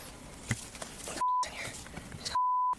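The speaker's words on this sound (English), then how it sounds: "Beep." Censor beep in a police bodycam breakdown stream: two steady electronic tones, each about a quarter to half a second long, cutting through muffled background noise and faint talk.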